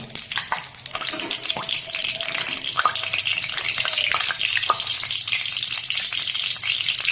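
Bay leaf, two dried chillies and whole garam masala sizzling in hot mustard oil for a village-style chicken curry, a steady close crackle with occasional stirring clinks.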